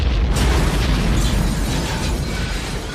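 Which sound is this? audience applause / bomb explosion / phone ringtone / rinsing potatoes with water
bomb explosion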